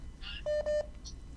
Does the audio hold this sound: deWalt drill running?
no